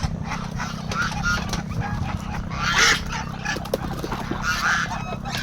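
Geese honk intermittently in a noisy rural farmyard, mixed with chickens and a steady low background rumble, with voices talking nearby.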